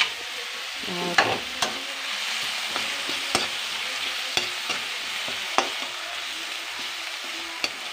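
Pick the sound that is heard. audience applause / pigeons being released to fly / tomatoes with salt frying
tomatoes with salt frying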